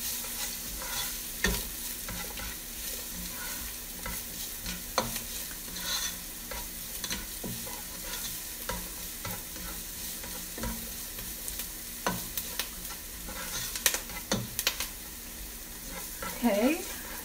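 Chopped onions fry in a pan for chili con carne and are stirred now and then. A soft, steady sizzle runs throughout, broken by scraping strokes of the spoon, and there is no talk.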